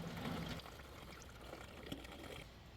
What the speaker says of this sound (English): For the next step, you're going to go ahead and fill your water can.